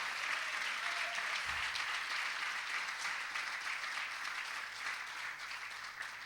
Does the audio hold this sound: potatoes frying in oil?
no